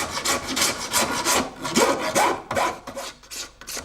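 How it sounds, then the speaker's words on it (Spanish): Rhythmic rasping of a file drawn back and forth across the wooden ribs of a handmade folding fan in a workshop, close and clear, in quick repeated strokes with no talking. "Francisco hace el repaso primero con la lima"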